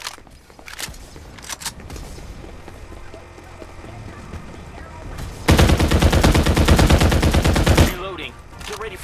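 Automatic gunfire in the shooter game Farlight 84: scattered single shots early, then a long, loud, rapid burst of sustained fire before it stops, with brief in-game voice lines.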